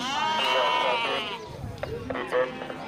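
Sheep bleating at a livestock market, several wavering calls up close in the first second and a half, then fainter noises with people talking in the background.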